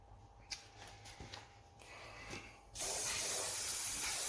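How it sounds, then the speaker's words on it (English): After a few faint taps and rustles, a steady silicone aerosol spray hisses continuously for over a second, close and fairly loud. "I should get myself some silicone spray."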